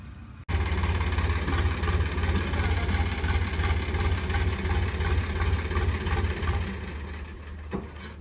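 A Sonalika 35 tractor engine idles close by on a farm, a loud steady diesel thrum starting abruptly and running evenly before easing slightly near the end.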